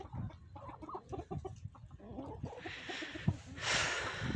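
Chickens cluck in short, choppy bursts nearby, followed by flapping and splashing noises as the birds stir about.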